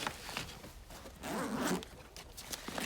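A zipper on the top of a range bag is pulled open in a few quick rasping strokes, close and crisp, with short pauses between pulls.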